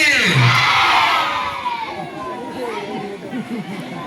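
A school audience of children cheers and shouts for a boy playing the king at a Republic Day play, a loud burst of excited young voices that fades into scattered chatter.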